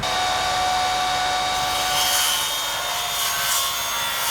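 A power saw, either a skill saw or a jigsaw, cuts through wood during a van-life build, giving a steady, close, rasping whine that holds at an even level throughout with no talking.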